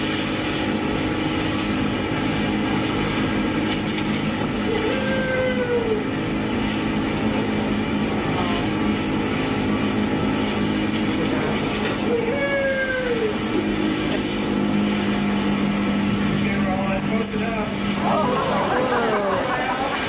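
A motor boat engine drones steadily and loudly near a resident orca in open water, its propeller hum constant throughout, with people talking and chattering over it and brief higher whistling sounds now and then.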